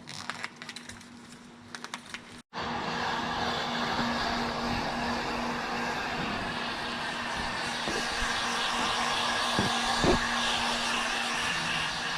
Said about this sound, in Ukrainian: трошки прогріла будівельним феном